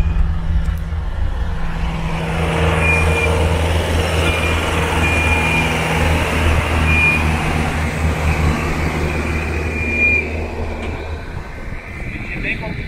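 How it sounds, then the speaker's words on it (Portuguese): A truck is dragged uphill by a tractor on a wet dirt road, heavy engines droning loud and steady with low harmonic rumble throughout and a brief high tone, easing slightly near the end. "O caminhão tá sendo arrastado aqui pelo trator pra conseguir subir o morrinho aqui"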